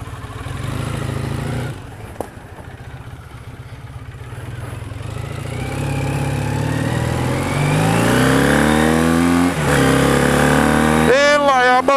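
A 1984 Honda CB400 cafe racer motorcycle rides off, its engine revving loud and steady as the pitch climbs through the gears, with a brief shift dip near the end.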